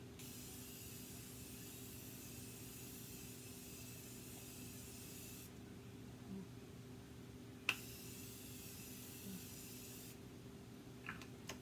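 Two long, steady hissing bursts from a Morphe Prep and Set makeup setting spray bottle, each a few seconds, with a faint click between them in an otherwise quiet room.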